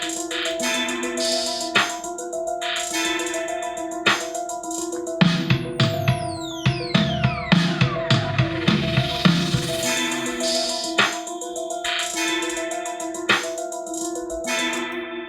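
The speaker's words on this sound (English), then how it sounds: "weird, eerie kind of string stab on the one" A sustained, eerie synth-string chord hangs over a beat, with a burst of sharp descending sweeps and pulsing hits in the middle before the pad settles back.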